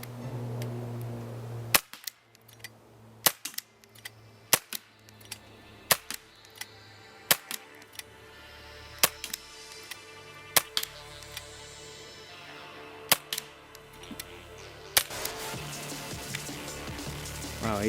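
A Gamo PT 80 air pistol firing pellets, about eight sharp separate cracks spaced a second or two apart, close and distinct over a quiet background hum.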